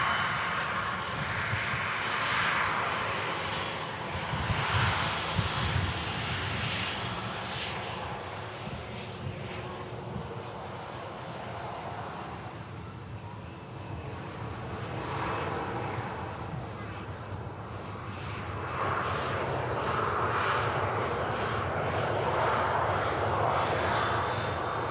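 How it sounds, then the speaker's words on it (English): An Embraer airliner climbs steeply after takeoff from Manchester Airport, its engines giving a steady, loud, broadband roar that swells and eases slightly over the pass, continuous throughout. "Fairly steep climb from the Embraer."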